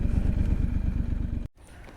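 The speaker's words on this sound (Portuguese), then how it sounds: "Vou pôr a moto aqui." A Triumph Scrambler 1200 XE motorcycle engine idles with a low, close, throbbing rumble, then cuts off abruptly as the bike is parked, leaving a faint quiet background.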